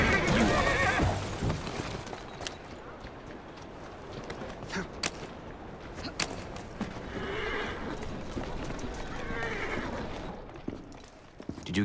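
A horse in the video game Assassin's Creed Syndicate whinnies loudly near the start, then its hooves clip-clop steadily at a walk, with a few more short neighs and snorts later.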